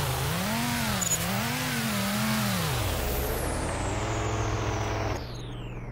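Rally car engine in the Roblox WRC rally game, revving loud and continuous with rising and falling pitch swings, then settling into a steadier drone that drops slightly in level near the end.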